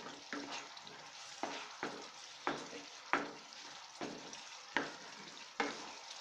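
Spoon stirring coriander powder and garam masala into an aloo chole curry gravy in a pan, giving a series of roughly eight scraping strokes at a steady rhythm over a soft sizzle, close and clear with no talk.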